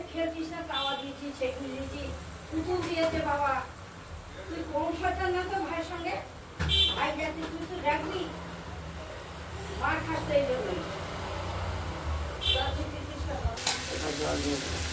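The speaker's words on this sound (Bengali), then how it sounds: "এটা মশলাটা নাড়াচাড়া দিয়ে যতক্ষণ না তেল বেরোচ্ছে ততক্ষণ আমরা এটা কষাতে থাকবো" Spice paste (masala) is stirred and fried in a kadai for a fish curry, with a constant sizzle and intermittent scraping strokes under a person talking.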